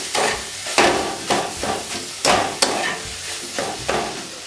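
Jackfruit stuffing for paratha stir-fried in a pan, repeated close scraping strokes of a spatula over a steady sizzle, with a loose rhythm of about one stroke every half second and no talking.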